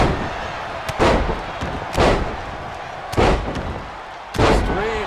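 In a WWE SmackDown wrestling match, four heavy body slams onto the mat boom out at roughly one-second intervals, each a loud, sharp thud that fades into crowd noise in the arena.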